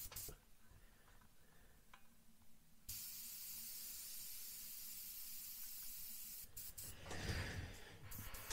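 A soft, steady hiss of a Gaalheri Mobius airbrush spraying paint at about 20 psi starts abruptly and continues evenly, close but quiet, with a brief rustle near the end.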